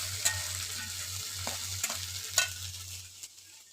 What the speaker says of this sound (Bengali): এখন আমার ঢেঁড়স ভাজাটা প্রায় শেষের মুখে।